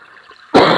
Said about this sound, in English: Apologies for the cough, guys.